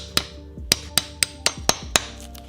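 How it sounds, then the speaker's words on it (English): A hammer taps a helicoil tang inside a Yamaha YZ250 engine case, making about seven sharp, close metallic strikes in a fairly even rhythm, each with a brief ringing decay. "you can just give it a little tap with a hammer."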